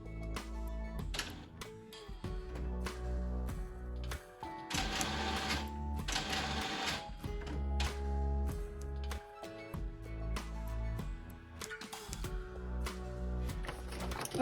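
A printer runs a sublimation transfer for a shirt, with steady mechanical whirring and a busy rhythm of clicks and ticks. The print head shuttles back and forth with short pauses between passes, alone and at close range.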